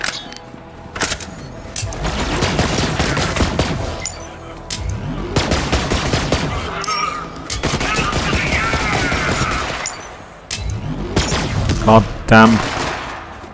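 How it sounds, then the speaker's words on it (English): Sustained bursts of rapid gunfire from a spool-up weapon in the video game Borderlands 3, loud and close, with brief pauses between volleys, clinking mechanical sounds and a voice speaking briefly. "The gun takes too long to spool up."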